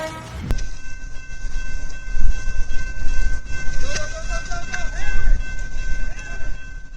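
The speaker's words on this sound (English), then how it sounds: "he got stuck on train tracks with a train rushing his way" A train rushing along railway tracks, a loud, steady rumble and rattle of wheels on rails with a sharp clank at the start and faint whistle-like tones, continuous throughout.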